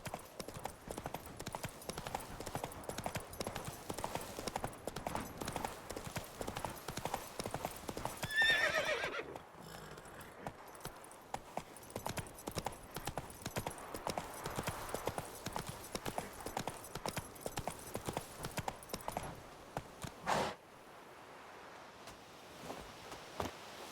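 Roach, a horse in The Witcher 3, gallops with steady rhythmic hoofbeats and gives a whinny partway through. The sound is fairly quiet and continuous, with a brief pause near the end.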